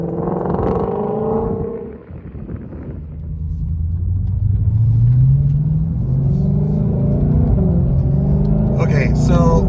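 A 2020 Ford GT500 with a 7-speed dual-clutch transmission driven on the road, its engine rumbling and rising in pitch as it accelerates, with someone talking over the drone.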